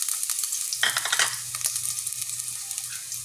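Onion hits hot oil in a pan for pork caldereta, a bright crackling sizzle that swells suddenly and then settles into a steady hiss.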